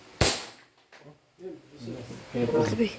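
A 2011 SRC Hi-Capa 5.1 airsoft pistol fires one sharp, close snap, followed by people talking nearby.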